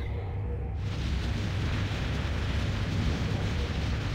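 A deep, rumbling explosion in the video game Painkiller Hell & Damnation bursts in and lingers as a sustained roar, loud and continuous with no voices.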